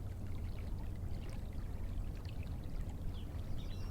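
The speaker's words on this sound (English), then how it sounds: "As the water flows by, little waves move toward your feet." Shallow desert river water flowing steadily past a sandy bank, a continuous close wash with soft lapping of small waves and no voices.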